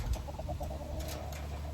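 Backyard chickens cluck in a quick run of short, close clucks that settle into a softer, drawn-out murmur, with light ambient noise underneath.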